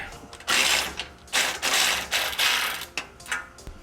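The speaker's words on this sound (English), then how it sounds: "we're going to disconnect the downpipe from the catback" Ratchet wrench loosening downpipe bolts under a Subaru WRX STI, heard as several quick clicking bursts of ratcheting, close and fairly loud, with brief pauses between strokes.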